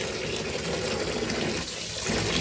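Running tap water splashes steadily over raw mango pieces being washed clean, a continuous close-up gush of flowing water with no voices.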